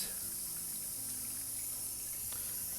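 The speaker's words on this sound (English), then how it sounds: "So now we are going to go to final rinse." Tap water runs steadily throughout during the final rinse step of home film developing, a constant close hiss with a low hum beneath and no talk.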